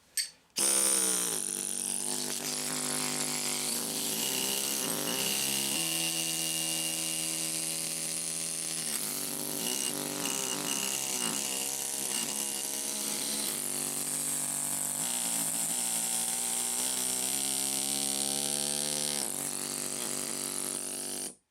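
A pneumatic carving tool works a square flower design into stone, throttled back with its air valve for fine lines, giving a continuous, fairly loud buzzing whine that wavers in pitch as the load changes, with no speech.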